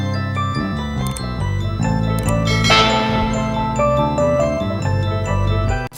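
A passage from a 1974 instrumental plays loud and continuous, with sustained layered tones and bright bell-like strikes ringing out above a steady low drone.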